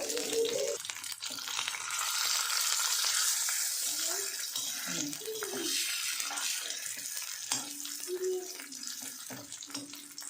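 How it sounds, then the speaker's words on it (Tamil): Marinated fish frying in a pan gives a steady, dense sizzle that holds at an even loudness for the whole stretch, with faint low sounds now and then beneath it. "ஒரு சைடு கொஞ்சம் ஃப்ரை ஆகிருக்கும். இன்னொரு சைடு நம்ம பரட்டி போட்டுக்கலாம்."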